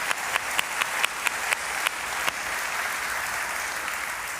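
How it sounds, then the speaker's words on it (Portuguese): A church congregation applauds volunteers, with a few sharp, rhythmic claps standing out at first before settling into a steady, even wash of clapping from a crowd in a large room. "E se você puder aplaudir a todo mundo que trabalhou nesse tempo."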